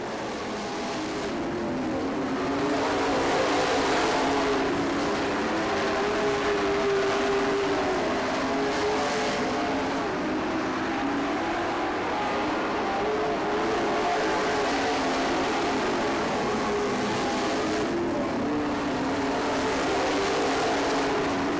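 Race cars circle a short track in a pack, running nose to tail lap after lap, giving a steady, loud engine drone with slight swells as cars pass, continuous for the whole stretch with no talk.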